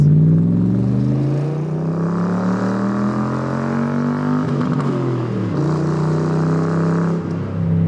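A Factory Five Roadster Mk II Cobra replica with a V8 drones steadily while driving, its loud engine note holding a rich rumble that sags briefly mid-run, then climbs again.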